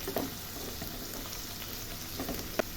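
Dried red chilies crackle and sizzle in hot oil for a Bengali cauliflower and rui fish dish, a steady soft fry with a few sharp pops, heard close and alone.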